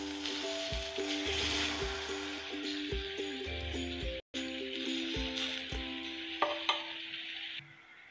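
Jaggery melts in a pan for Kerala-style kozhukatta filling, with a continuous sizzle and bubbling under repeated metallic clinks and scrapes of a stirring spoon, a brief break midway, then fading quieter.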